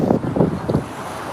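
Wind gusts and surf roll in at a wild beach, a loud broadband rush with a few pulsing swells, no talking.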